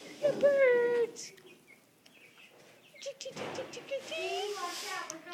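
Small birds chirp and tweet near a chicken pen, with a few high calls standing out while people talk quietly over them.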